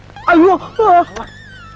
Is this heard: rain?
no